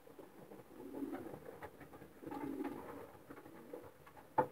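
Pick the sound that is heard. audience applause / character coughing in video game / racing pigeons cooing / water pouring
racing pigeons cooing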